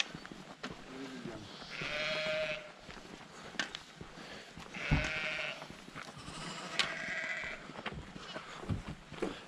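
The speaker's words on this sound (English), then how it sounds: "Oh, little baby lambs." Young lambs bleat in a field at a campsite, several wavering calls spaced across the stretch, fairly near, with a few quiet human sounds in between.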